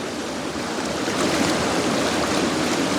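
A wild creek in New Zealand rushes and burbles in a continuous broad wash, close and steady, with no voices.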